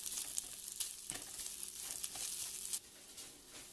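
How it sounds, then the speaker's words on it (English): Lemon pieces sautéing in a pan for cheap lemon fried rice make a crackling, spitting sizzle with a few sharper pops, which eases to a softer hiss near the end. "Just saute this a little bit until some of the moisture from the lemons evaporate"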